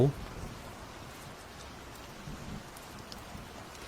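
Rain falls as a steady, soft hiss of drops in an audio drama sound effect, even and continuous at a moderate distance, with a brief louder onset at the start.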